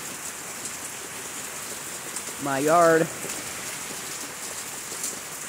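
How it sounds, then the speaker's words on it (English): Rain pours steadily outside a trailer, a constant hiss of water on surfaces, while a voice speaks briefly in the middle. "It's raining. It's pouring."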